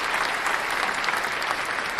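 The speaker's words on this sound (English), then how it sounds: "You can put applause on that one" A loud, close burst of crowd applause used as a sound effect, a dense and even hail of clapping that holds steady for the full two seconds with no voices.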